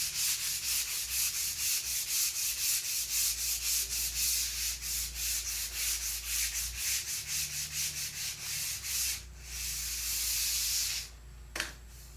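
Sandpaper rubs back and forth along the edge of a wooden board for a storage shelf in a shuttle-bus RV conversion, making close, rhythmic scratchy strokes followed by a longer steady rub.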